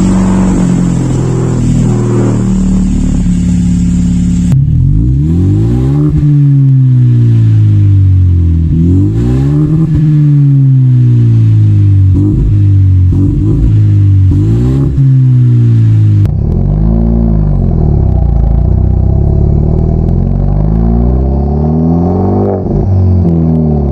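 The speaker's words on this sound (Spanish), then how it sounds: "el carro quedó muchísimo más ronco" Hyundai Genesis Coupé 2.0T with a straight-pipe exhaust, revving repeatedly in loud, close, raspy surges that rise and fall, with a deeper idle burble between blips and no talking.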